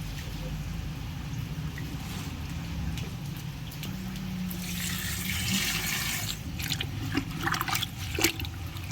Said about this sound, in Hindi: अब बारी आती है इसे अच्छी तरह से धोने की।